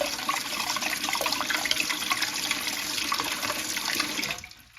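A repaired household toilet flushes with a loud, steady rush of water for about four seconds, then drops off abruptly as the bowl drains and refills.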